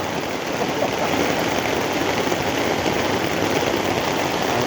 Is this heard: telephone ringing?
no